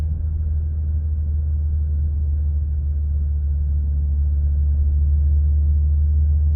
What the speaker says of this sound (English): I can feel it downshifting, slowing me down, saving my brakes.